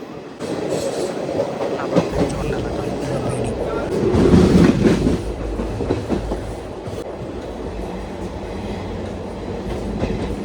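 A Narasapur MEMU train runs between Nidadavolu Junction and Tadepalligudem, with a steady onboard rumble and rhythmic wheel clatter that swells louder midway before settling back.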